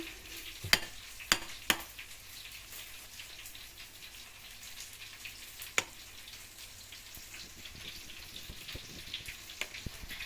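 Fish in batter and sesame fries in a pan with a soft continuous sizzle, broken by a few sharp pops and spatters, faint and without talking.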